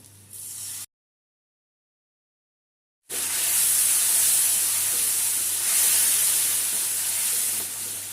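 Tamarind water hitting fried mango in a hot pan erupts into a loud, sustained sizzling hiss after a brief gap of silence, with a quieter sizzle before the gap.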